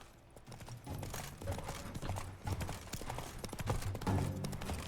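A horse's hooves clip-clop in a steady galloping rhythm as a rider moves through The Witcher 3: Wild Hunt, Blood and Wine, close and continuous with faint background game ambience.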